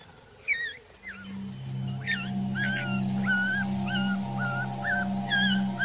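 High, thin whimpers and yips repeat in quick bursts from African wild dog pups, layered over a steady low hum.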